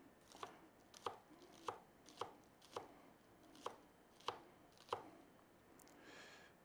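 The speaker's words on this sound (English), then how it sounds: "give our onion a rough chop" A knife roughly chops an onion on a board, about eight crisp, evenly spaced chops, close and clear in a quiet kitchen.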